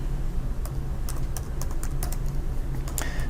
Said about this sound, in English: sorry I don't type very fast